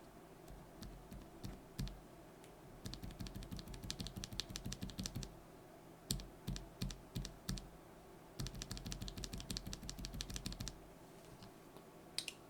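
Bare Durock Light/Medium tactile keyboard switches, no keycaps fitted, pressed in rapid bursts of sharp, close clicky taps with short pauses between runs, no voices.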